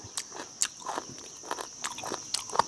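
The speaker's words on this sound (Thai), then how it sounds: "ฟังเสียงเคี้ยวครับพี่น้อง" Crispy deep-fried beef is chewed in a series of sharp, close crunches at an irregular rhythm, each bite a brief crackle over a steady faint background hiss.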